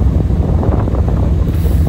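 Strong wind buffets the microphone aboard a sailing boat at sea off the English south coast, a steady rushing roar with low rumble and no speech.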